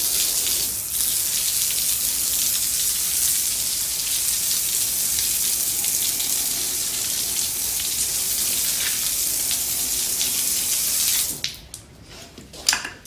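Water hose spraying to rinse a dog area floor, a steady close hiss lasting about eleven seconds that then cuts off, leaving a few scattered knocks and handling sounds.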